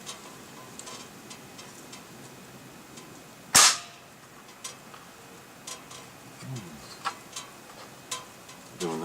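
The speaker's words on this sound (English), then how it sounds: "I just loaded in a pellet, ready to fire." An air gun fires a pellet in one sharp, loud crack, followed by faint ticks and light handling noise.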